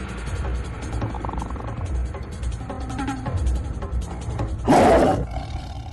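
A tiger roars once, loud and close, a brief broad burst standing out over a quieter dramatic film soundtrack with low rumbling background.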